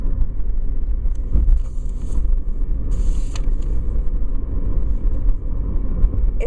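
A car driving along: steady low road rumble and wind noise inside the cabin, continuous and fairly loud throughout, with a couple of faint higher clicks.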